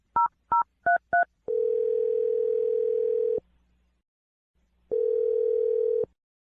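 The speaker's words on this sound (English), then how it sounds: "Dial the phone number right now." Four quick touch-tone dialing beeps are followed by two long, steady telephone ringback tones separated by silence as a radio-show call is placed, clean and close with no talking.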